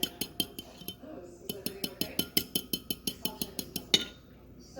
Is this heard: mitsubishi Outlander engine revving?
no